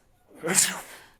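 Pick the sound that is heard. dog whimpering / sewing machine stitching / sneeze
sneeze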